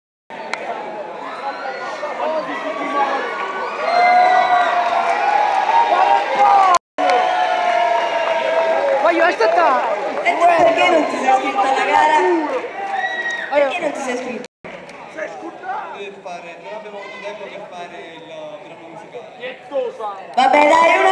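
A crowd at a cosplay event stage show, loud sustained cheering, chatter and whoops that fill the room, with a brief clapping swell and an announcer's amplified voice over the noise.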